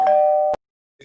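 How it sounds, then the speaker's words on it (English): A single electronic doorbell chime rings as one steady, sustained tone for about half a second, then cuts off sharply, leaving silence before a faint brief sound at the end. "So doorbell ring."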